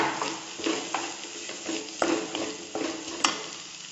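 Vegetables with turmeric and chili powder sautéing in a pan for cutlets, a soft steady sizzle broken by regular scraping stirs of a spoon against the pan.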